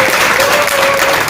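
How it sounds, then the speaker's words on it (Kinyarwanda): Applause from a comedy show audience, a dense, loud, continuous clapping that fills the whole short stretch without pause. "mwikomera amashyi"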